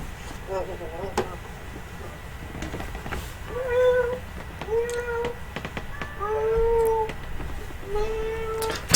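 A cat meows repeatedly in drawn-out, wavering cries, moderately close, with a low background rumble and a few faint clicks between calls.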